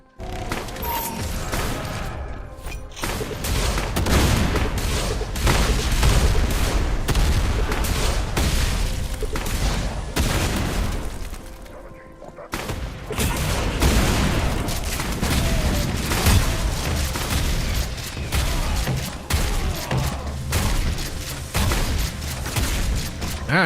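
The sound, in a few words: gunfire in Doom mod video game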